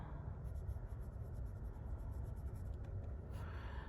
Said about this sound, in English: So it writes nice. I like it better on the Twsbi paper.